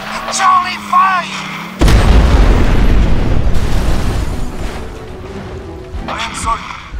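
Artillery fires in a video game battle on the Shore map: one heavy, loud boom hits and then rolls off into a long rumbling decay, with a voice talking before it and again near the end.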